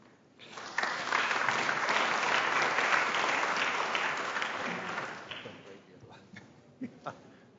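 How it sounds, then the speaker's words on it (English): An audience in an academic lecture on university rankings breaks into loud, sustained applause welcoming Dr. Linne from Kazakhstan, then fades into a few scattered late claps. "please give a warm round of applause to Dr. Linne from Kazakhstan"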